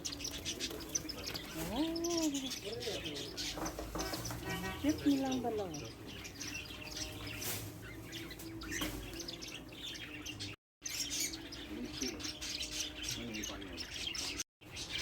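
Sparrows in a Jeddah pet store chirp and squawk in quick bursts of rising and falling calls, with steady twittering from many birds close by underneath people chatting.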